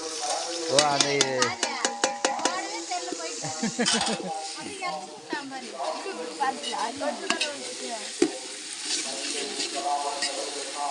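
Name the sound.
onions being stirred and fried in a pan for biryani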